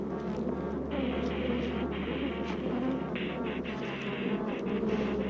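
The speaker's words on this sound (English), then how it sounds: "Killer bees will pursue a victim great distances, stinging all the way." Aggressive killer bees swarm near their hives, a steady droning buzz of many insects with wingbeats rising and falling slightly, fairly faint and continuous with no talk.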